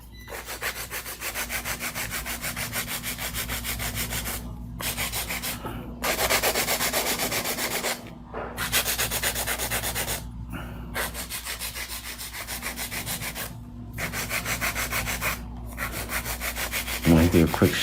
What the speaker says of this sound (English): So this is hand filing.